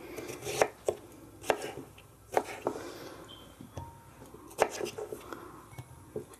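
Knife chopping cucumber on a cutting board for gazpacho, a series of sharp close cuts in uneven clusters, with soft speech between them.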